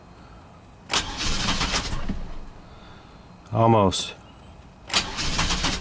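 A GMC Jimmy engine cranks in several bursts of starter whirring as it struggles to fire, with a short sputter between attempts and a brief spoken word over the noise.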